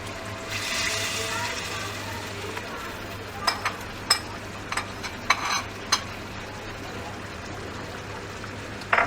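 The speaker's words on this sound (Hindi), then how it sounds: "अब हम इसमें योगर्ट डालेंगे, तकरीबन 1 कप" Cup of yogurt going into sizzling chicken karahi in a pan, a soft hiss and bubbling fry with scattered stirring clinks and scrapes, quiet and close.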